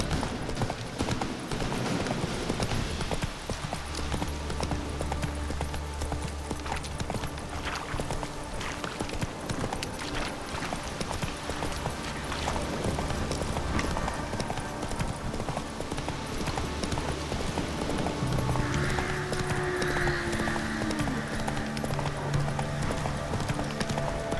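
Hooves clip-clop in a steady galloping rhythm as the horse Roach runs in The Witcher 3, continuous and close over soft game ambience.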